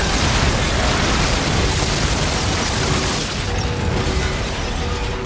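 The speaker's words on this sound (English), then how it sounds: "the spectacle of blowing off limbs with really satisfying explosions" Explosions during a mech battle in the video game Call of Duty: Infinite Warfare, with dense, continuous booming blasts and rumbling debris that stay loud throughout.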